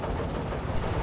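A generator engine runs in the video game Alan Wake, a steady low mechanical drone with a rattling, train-like rumble that holds at an even level throughout the short stretch, with no voices.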